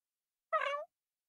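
A single short cat meow from The Sims 4 game, clear and isolated against silence.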